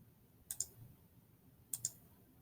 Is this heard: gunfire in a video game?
no